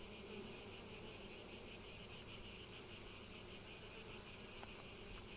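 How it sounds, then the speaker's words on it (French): Bees swarm around an open beehive during a summer inspection, a constant, even insect buzz that holds steady throughout, faint and without talk. "Il y a beaucoup d'abeilles"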